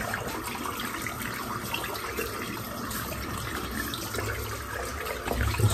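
Tap water filling a bathroom sink, a steady close hiss of running water that turns fuller and deeper near the end.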